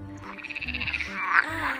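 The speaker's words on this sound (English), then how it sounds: "F for frog." A frog croaks in a run of quick rhythmic pulses, fairly loud and close, with no talking over it.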